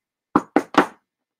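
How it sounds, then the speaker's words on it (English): Three sharp knocks on a door, evenly spaced and close, each a hard dull rap, the last slightly stronger, with silence before and after. "when a knock came at the door"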